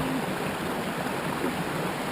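Water flows through a creek at a gold prospecting spot, giving a steady, even rushing hiss close by with no break.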